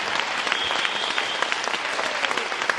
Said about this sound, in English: Please round of applause as he leaves with a fantastic, fantastic, fantastic speech.